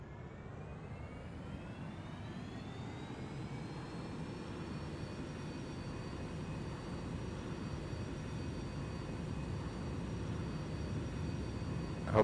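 A simulated airliner accelerating down the runway for takeoff in X-Plane VR, its jet engines roaring steadily with a rising whine under a broad rumble, no voices, sustained throughout.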